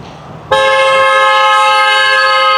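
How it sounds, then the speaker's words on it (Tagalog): Quiet street ambience in Fukuoka, Japan, then a loud car horn blares suddenly and holds steadily as one long, sustained honk. "Parang first time ko guys makarinig ng nag-blow ng horn na sasakyan dito sa Fukuoka."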